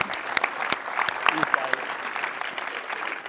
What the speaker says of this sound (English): let's give them a clap for that